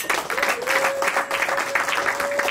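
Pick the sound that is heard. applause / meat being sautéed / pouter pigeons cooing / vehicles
applause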